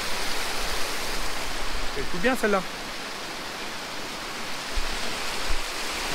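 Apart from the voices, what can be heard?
small natural waterfalls and streams on a hiking trail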